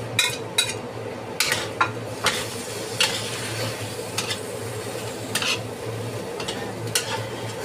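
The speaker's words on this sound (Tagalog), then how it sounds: "I-add na po natin itong fungus, mushroom at pork." Fungus, mushroom and pork being stir-fried in a pan: a continuous sizzle under a low steady hum, with repeated rhythmic scrapes and knocks of a utensil against the pan, close and fairly loud.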